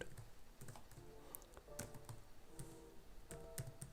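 Steady, moderately quiet typing on a computer keyboard while entering Java code, with quick irregular key clicks and occasional louder taps, no voices.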